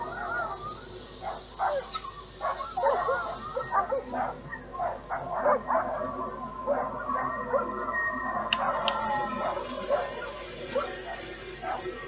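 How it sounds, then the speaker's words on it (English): A dog in the video game Darkwood barks and yips in rapid, irregular bursts amid a low ambient drone, moderately loud and persistent, with a voice occasionally heard alongside. "Fucking dog."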